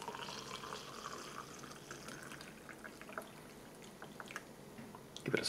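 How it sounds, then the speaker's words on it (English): Boiling water poured into a Spanish army combat ration packet of soup, a quiet liquid trickle and splashing with faint packet rustles, ending in a brief louder crinkle. "we might as well just get some boiling water into the soup"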